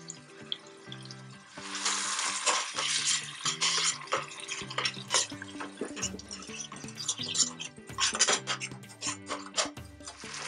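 Onions and tomato being stirred together in a pot, giving wet scraping and a rushing, watery sizzle that swells and fades, with no talking.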